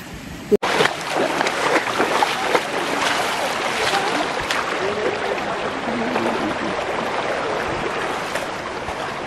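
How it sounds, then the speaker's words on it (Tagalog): Steady broadband rush of flowing water and current at Verdivia Falls in Bulacan, loud and continuous, with a sharp click near the start. "Narinig mo yung mga alon, agos."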